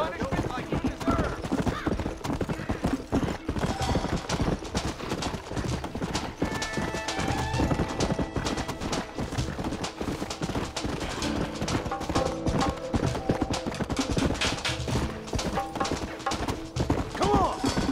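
Horse hooves clip-clopping in the Western video game Red Dead Redemption, a continuous busy rhythm of many hoofbeats, as if several horses are moving, under game music and other background sound.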